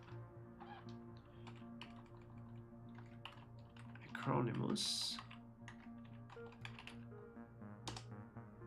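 Rapid clicking keystrokes on a computer keyboard, close and continuous, with someone talking over it and a brief louder rustle in the middle.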